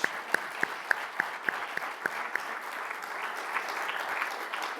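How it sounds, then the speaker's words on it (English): An audience applauding after a business technology talk, steady clapping from a crowd that holds for several seconds without fading. "Round of applause."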